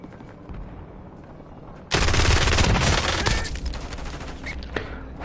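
A sudden dense burst of Call of Duty: Warzone gunfire erupts partway in, loud and close for about a second and a half of rapid shots, then trails into echoing rumble over the quieter in-game ambience.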